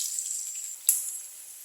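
Chopped onion frying in a pan until light brown gives off a steady, faint sizzling hiss, with one brief sharp click partway through and no talking.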